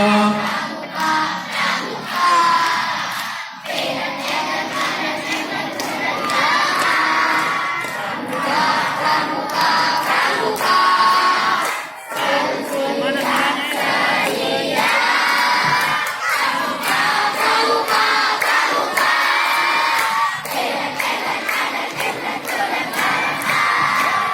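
A large group of elementary school scout children at a Pramuka camp chant and clap the Pramuka cheer together, loud, sustained shouting with rapid rhythmic clapping running throughout.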